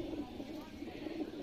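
Breeder pigeon cooing in soft, low repeated murmurs, faint and close, running steadily through the moment.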